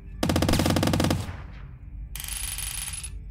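Rapid automatic gunfire from the squirrel's gun in the video game Squirrel with a Gun, a loud burst of about a second, then a brief lull before a second sustained burst with a high whine.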